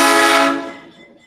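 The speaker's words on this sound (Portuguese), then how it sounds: "Agora vocês ouviram o trem passando aqui, na frente de casa." A train passes right outside a house, sounding a loud, blaring horn that holds briefly and then fades away within about a second, with no voices.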